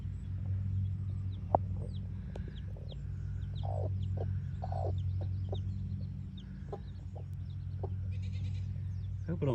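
Broody hens on pasture give repeated low clucks and scattered calls, with occasional sharper squawks over a steady outdoor background hum throughout.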